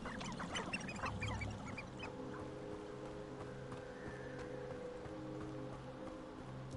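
A chicken in the video game Hogwarts Legacy gives quiet, bird-like calls in the first couple of seconds over a soft, steady game ambience that carries on alone afterward.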